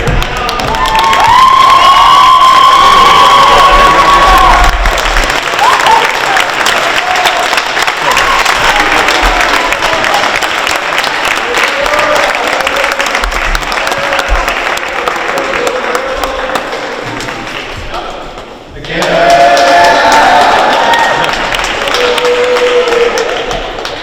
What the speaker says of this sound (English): If we could have a standing round of applause